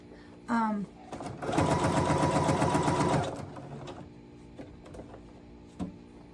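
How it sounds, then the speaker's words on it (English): A sewing machine stitching fabric wavy side up, a fast mechanical whirring run of about two seconds, preceded and followed by brief voices and small clicks. "Prefer to sew wavy side up so I can press them down, flatten as I go."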